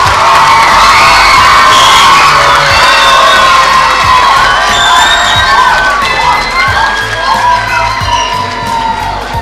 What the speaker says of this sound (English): Now it is the time to give them a big hearty round of applause.